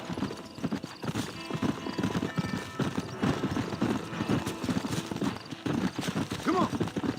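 Horse hooves clip-clop in a steady trotting rhythm on a trail in Red Dead Redemption, close and continuous, with a brief snort or whinny and faint game sounds underneath.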